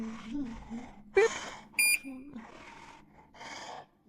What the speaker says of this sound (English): Well, that was a satisfying beep.